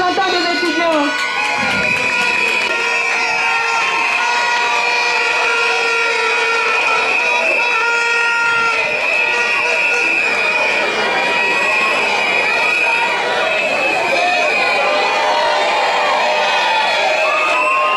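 A large crowd at a university graduation ceremony cheers, whoops and shouts continuously, loud and close, with some applause mixed into the sustained roar.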